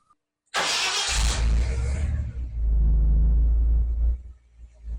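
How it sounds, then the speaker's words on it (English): A car engine cranks with a loud burst, catches and settles into a steady, slightly elevated idle with manifold vacuum advance connected, the low rumble holding close and loud to the end. "Okay, now I've got it on manifold vacuum, and we'll see how it starts up."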